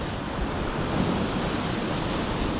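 Sea waves washing onto a northern shoreline as the tide rises, a steady broadband roar of surf with some wind noise, continuous and fairly close, with no voices.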